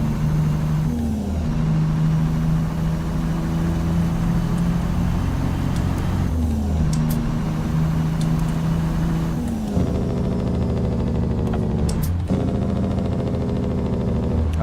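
A heavy truck engine in American Truck Simulator drones loudly and steadily, pulling through repeated gear shifts as the RPM builds, with a low rumble throughout and no talk.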